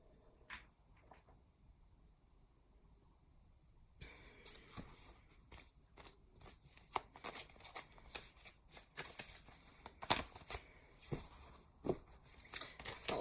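Quiet at first with a couple of soft taps, then a deck of cards is shuffled repeatedly up close, crisp riffling and flicking bursts continuing.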